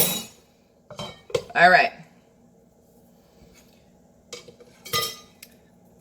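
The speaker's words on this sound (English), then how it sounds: "We're gonna just spoon stir this." A spoon clinks against a cup while stirring coffee in a home kitchen, with a few sharp metallic taps scattered between pauses and a brief spoken remark.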